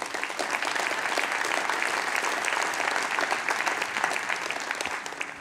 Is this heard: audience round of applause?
yes